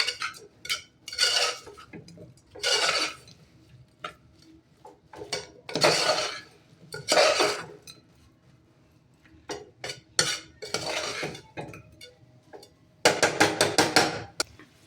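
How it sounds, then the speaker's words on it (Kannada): Vangi bath powder being fried and stirred in a pan: intermittent scraping and clinking bursts of a spoon against the pan, fairly quiet, with pauses between strokes and no talking. "ಚೆನ್ನಾಗಿ ಫ್ರೈ ಆದಮೇಲೆ 2 ಟೇಬಲ್ ಸ್ಪೂನು ವಾಂಗಿಬಾತ್ ಪೌಡರ್ ಹಾಕ್ಕೊಳ್ಳಿ. ಅದನ್ನು ಫ್ರೈ ಮಾಡ್ಕೊಳ್ಳಿ."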